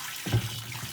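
Water runs from a tap at an outdoor work area in Dadaab refugee camp, a brief, soft splashing stream with a slight swell partway through.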